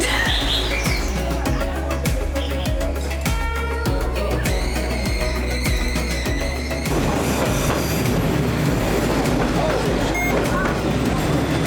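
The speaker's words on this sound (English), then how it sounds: "we have this amazing shot of the train literally going over my phone" A train in Hanoi thunders past very close overhead, loud clattering wheels and rhythmic clicks over the rails, with squealing metallic tones and a voice underneath.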